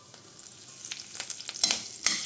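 Dry red chillies, cumin, mustard seeds and curry leaves fry in ghee with faint crackling sizzle and small popping spurts that grow louder, close by and without talk.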